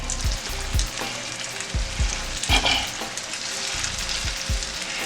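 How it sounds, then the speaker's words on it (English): Meatballs sear in a hot pan with a steady, loud sizzle, broken by repeated low thumps and scrapes as they are turned and moved around. "while we're doing this searing, we're just getting some color on them"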